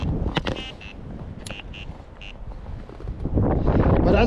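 Strong wind blowing across an open fishing bank during a feeder fishing session; low, gusty buffeting roars against the microphone throughout and swells louder near the end, with a few faint higher sounds on top.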